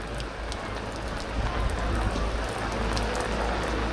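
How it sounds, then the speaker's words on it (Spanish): Steady rain pattering on surfaces outdoors, a dense, even hiss with scattered sharper drops, close and continuous with no talk. "que está lloviendo"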